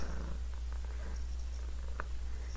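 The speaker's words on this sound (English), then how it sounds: "You're going to be hearing purring for the majority of the video" A cat purring on a person's lap close by, a steady low rumbling drone that continues without pause.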